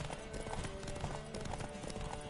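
Horse hooves clip-clop in The Witcher 3 video game, a quick repeating trot mixed with game sounds and music at a fairly quiet level.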